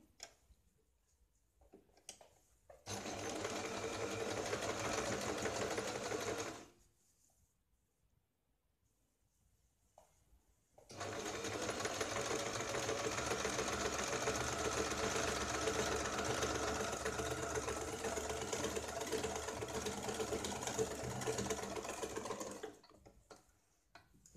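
An electric sewing machine stitches a blouse in two steady runs, the first about four seconds and the second about twelve, with a quiet pause between them and no talking.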